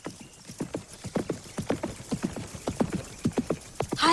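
A horse named Flash runs, its hooves beating out a rapid, rhythmic clip-clop at close range, with a brief whinny-like burst right at the end.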